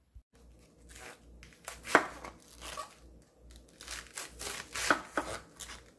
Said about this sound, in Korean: 양배추를 조금 도톰하게 썰어주세요.